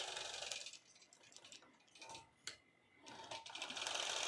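A sewing machine stitches in the ditch along a quilt's seams, its steady mechanical whir running in close, loud stretches and dipping briefly between runs.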